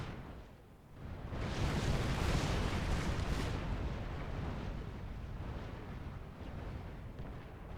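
A unit detonates in Supreme Commander 2 on the Thunder Pass map, a long, dense rumbling blast that swells after a quiet start and rolls on steadily for several seconds, with no voices.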